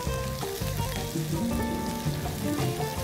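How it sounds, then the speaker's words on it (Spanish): Ingredients sizzle in a hot frying pan for a pork stew, a loud, dense, continuous crackling fry that runs steadily from start to finish without any voices. "Si estás poniendo ingredientes en tu sartén y no suena de esta manera, te recomiendo que hagas una pausa, esperes a que se caliente bien y prosigas."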